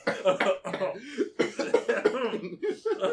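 A person coughs several times in bursts, close and fairly loud, mixed with throat-clearing sounds and some voiced noise.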